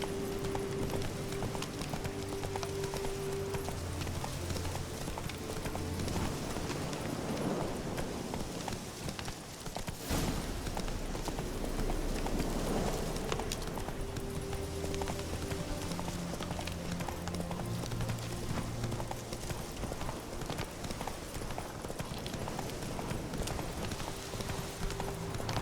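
Roach, a video game horse, gallops in a steady rapid clip-clop of hooves that carries on without a break, with a dense layer of game sound effects and occasional other noises over it.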